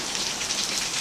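Rain falling hard and steady, a dense hissing wash of drops leaking into a bedroom of a house, continuous and fairly loud with no talking.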